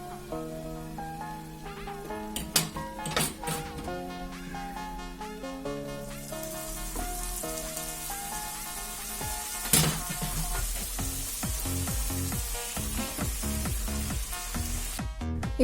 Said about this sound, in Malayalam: ഇങ്ങനെ നമുക്ക് മുഴുവനും പൊരിച്ചെടുക്കാം കേട്ടോ.